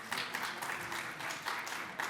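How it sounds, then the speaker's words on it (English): Audience applause for London artist Wolfe von Lenkiewicz at an art history talk, a steady wash of clapping from a crowd, moderately faint and even across the whole moment. "round of applause"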